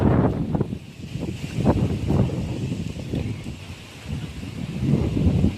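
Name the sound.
strong wind blowing outdoors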